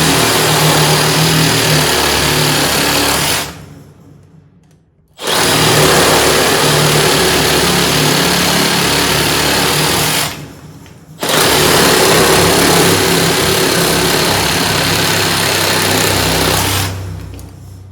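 A Makita reciprocating saw fitted with a Diablo blade cuts in three long, steady, loud bursts of harsh buzzing, each lasting several seconds, broken by short pauses between cuts.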